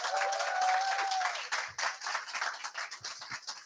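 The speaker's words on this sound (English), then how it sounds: "start by giving yourselves a big round of applause" A celebration-event audience claps enthusiastically for themselves at the close of a three-month programme, a dense steady round of applause that thins into separate claps near the end.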